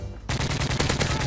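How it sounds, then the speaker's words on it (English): Rapid gunfire in Modern Warfare 3, a dense run of loud, closely spaced shots, machine-gun style, bursting in after a brief quieter lead-in and continuing without pause. "someone's shooting me! They're shooting me!"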